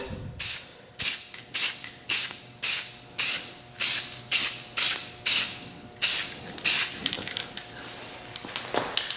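A top coat is spray painted onto an engine block at home in about fourteen short, evenly spaced hissing bursts, loud and close, with a faint hum running underneath.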